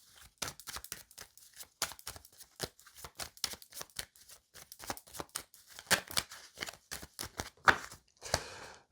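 A 32-card deck is shuffled and cut by hand, producing a close, quiet run of crisp slaps and flicks at an uneven rhythm, ending in a quick fluttering riffle.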